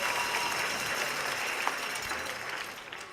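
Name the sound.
crowd cheering and applauding at Chiefs pep rally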